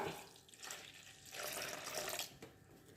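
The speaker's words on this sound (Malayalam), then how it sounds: "അപ്പോൾ കുറച്ച് സുർക്ക ഒഴിച്ചു കൊടുക്കുക" Vinegar is poured into a cup already holding kerosene, producing a faint, continuous trickling pour with small surges, heard alone without speech.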